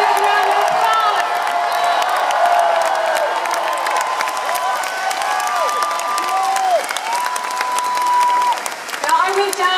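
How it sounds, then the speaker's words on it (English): A large concert crowd in New York applauds loudly with scattered whoops and cheers rising above the steady clapping throughout. "A big round of applause."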